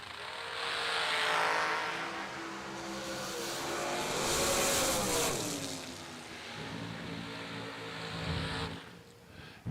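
A dragster launches at a drag racing event, its engine a loud, sustained roar that swells, dips and surges again across the run before cutting off abruptly near the end.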